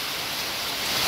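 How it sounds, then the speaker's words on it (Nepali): Heavy rain pours down in a dense, steady roar of hissing water, close and unbroken for a moment, with no voices. "यति बवाल पानी परिरहेको छ"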